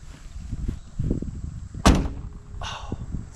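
An old pickup truck door, its edge fitted with a length of PEX tubing, shuts with a single loud thud midway through, preceded by faint handling clatter and followed by a soft rattle.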